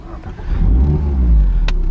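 Mazda MX5 RF 1.5 roadster fires up at the push of the start button, a low engine rumble swelling up and settling into a steady, close idle with a brief higher chirp near the end.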